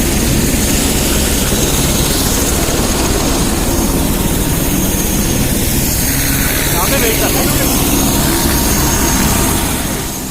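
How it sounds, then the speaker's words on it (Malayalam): Planes landing at Lukla airport in good weather, heard as a loud, unbroken roar and drone of aircraft engines close by that fills the whole stretch. "അതുകൊണ്ട് പ്ലെയിനെല്ലാം ലാൻഡ് ചെയ്യുന്നുണ്ട്."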